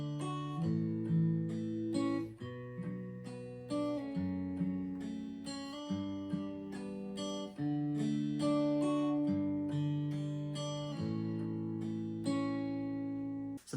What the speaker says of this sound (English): so I'm going to be using my Aeroband guitar